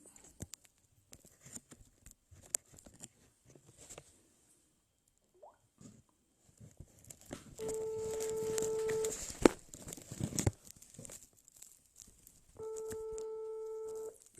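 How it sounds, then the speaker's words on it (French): A telephone ringing tone sounds during an outgoing call, two steady tonal bursts separated by a gap, fairly faint amid light background clicks and noise. "Pépé Martial Bissot, je suis en train de t'appeler"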